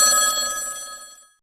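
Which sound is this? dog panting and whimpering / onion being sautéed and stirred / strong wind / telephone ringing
telephone ringing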